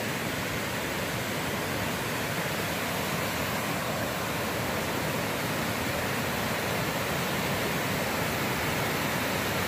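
A big waterfall roars in a steady, dense wash of broadband noise that fills the whole stretch, close and constant with no pauses or voices.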